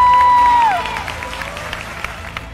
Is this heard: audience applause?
yes